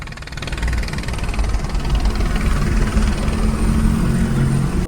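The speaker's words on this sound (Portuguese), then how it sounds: "Quando eu cheguei no aeroporto, tinha um helicóptero da polícia, que o nome é Águia." A police helicopter named Águia runs at an airport, its engine a steady, fairly loud mid-pitched drone with a low rhythmic throb, continuous for the whole stretch with no talk.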